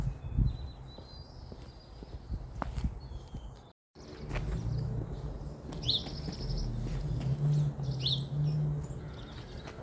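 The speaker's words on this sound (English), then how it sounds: "all these beautiful birds chirp here in the background" Birds chirp outdoors in short, bright tweets scattered over several seconds above a steady low rumble, with a brief dropout partway through.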